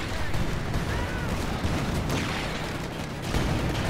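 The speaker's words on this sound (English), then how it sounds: "Shoot the bazooka!" Dense, continuous combat noise from the video game Company of Heroes 2 as a bazooka fires, with booms and gunfire blending into a loud, sustained rumble and a voice faintly present.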